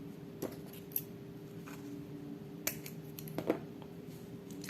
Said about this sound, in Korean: 이것도 똑같이 15cm 길이로 잘라주세요.